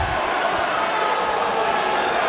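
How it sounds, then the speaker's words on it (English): Excited boxing crowd at an eight-round fight, a loud, dense roar of cheering that stays steady and close from start to finish. "The crowd are excited here."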